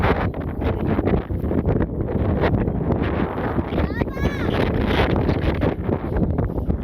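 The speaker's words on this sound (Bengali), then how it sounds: "বাতাস ছাড়ছে" Wind blows across open village water near a rowing boat, a loud continuous rushing buffet on the microphone with people talking underneath.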